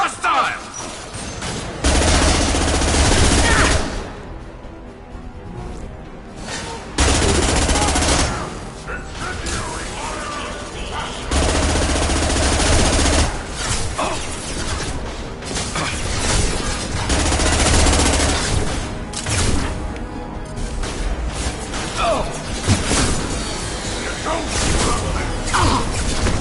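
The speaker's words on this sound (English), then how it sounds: "Firing a high-impact shot." Gunfire in the video game Mass Effect 2, sustained automatic bursts and heavy shots mixed with mechanical clatter and game noise, with voices speaking at times over the loud combat.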